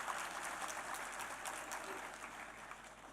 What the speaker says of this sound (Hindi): तालियों की गड़गड़ाहट बजते रहने चाहिए